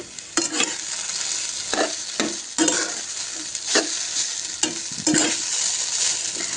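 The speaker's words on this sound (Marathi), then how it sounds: "हलवून घेऊया हलवत करून घ्यायचं आहे" A spoon stirs sabudana and raw potato khichdi in a hot pan, with repeated scraping strokes at an uneven rhythm over a steady low sizzle, close and fairly loud.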